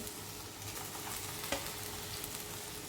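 Rice mixed with a coconut filling is stirred over a low flame for Maharashtrian narali bhaat, a quiet continuous sizzle with soft scraping and one brief clink of a spoon, heard without talk.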